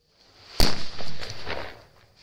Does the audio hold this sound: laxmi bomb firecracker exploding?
yes